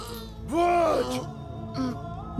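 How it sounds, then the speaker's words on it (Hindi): Labored, groaning breaths of someone dying in a dramatic scene, two drawn-out strained exhalations with a gasp between, close and fairly loud. "दम निकलने पर सांसों की आवाज"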